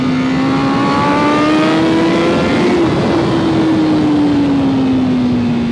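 A 2020 Honda CBR1000RR-R Fireblade SP motorcycle engine screams at high revs, loud and continuous, with a steady whining pitch that slowly rises and then eases back, wind noise throughout.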